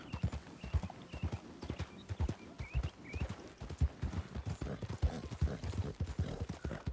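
A galloping horse in the video game Red Dead Redemption II, with hooves pounding in a rapid, steady clip-clop rhythm, close and continuous, and a brief whinny in between.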